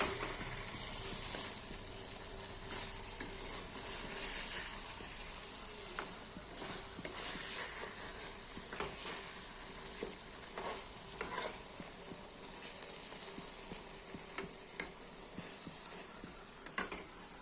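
Fish fry in oil in a pan with a soft, steady sizzle, broken by scattered light clicks and scrapes as the pieces are flipped over; close, fairly quiet, with no talking.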